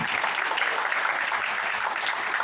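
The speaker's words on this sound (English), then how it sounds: "please give a big applause to all our main speakers, keynote speakers" Audience applause at an international architecture conference after the keynote speakers, a dense, steady wash of many hands clapping at moderate loudness from start to finish.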